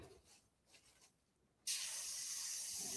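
An airbrush fires a burst of cleaning spray into a bucket. Quiet shuffling comes first, then a loud, steady, high hiss starts abruptly and runs to the end.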